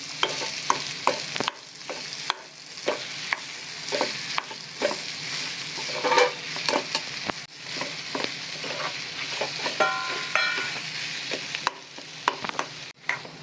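A spoon stirs boiled potato masala filling for bread pakoda in a pan, scraping and sizzling with steady repeated strokes close up, alone without talk.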